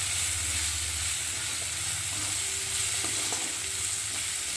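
Prawns hit hot oil with the fried spice paste and get stirred, giving a steady broadband sizzle with a low hum beneath and occasional faint utensil clicks, close and even throughout.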